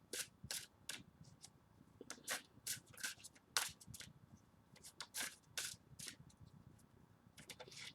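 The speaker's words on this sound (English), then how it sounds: "I'm just going to pick two cards out of here." Tarot cards are shuffled and picked by hand in a quiet room, giving a string of crisp, close card snaps and flicks at an uneven rhythm, with no one talking.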